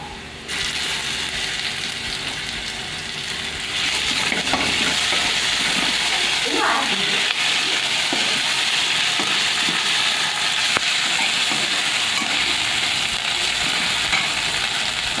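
Onions fry in a pan until browned while an Assamese ghuguni is cooked, giving a loud, steady sizzle with intermittent scraping and stirring that carries on continuously close by.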